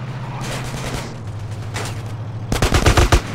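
Rapid bursts of automatic gunfire in the video game GTA San Andreas, loud repeated volleys over a steady low engine drone, growing heavier and sharper near the end.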